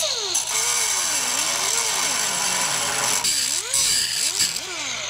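An old angle grinder cuts metal under a Chevrolet Squarebody Suburban during lowering work, a loud continuous whine whose pitch sags and recovers as the disc bites and frees, with a steady broadband hiss throughout.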